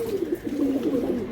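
Pigeons coo steadily at a pigeon market selling high-flying and giribaz pigeons, a low, rolling coo repeating close by and continuous through the short span.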